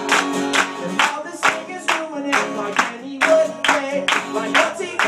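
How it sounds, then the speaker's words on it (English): Live audience clapping along in rhythm to a song at an Arts for Autism concert, steady claps layered over sung vocals and instruments throughout. "everybody's gotta go like, clap, clap, clap"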